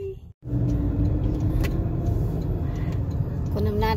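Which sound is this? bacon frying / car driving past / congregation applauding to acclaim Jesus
car driving past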